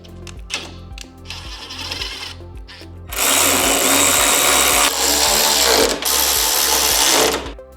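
Half-inch bolts are started and then run tight on a 2024 Harley-Davidson Road Glide frame, heard first as light clicks and scrapes, then as a loud, sustained power-tool whir for the last few seconds, up close with no talk.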